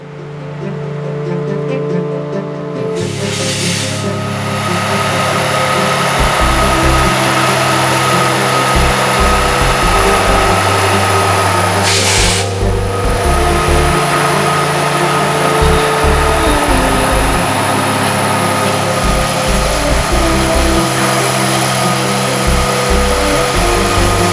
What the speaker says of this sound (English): a loaded BNSF coal train heading down to the Sherry plant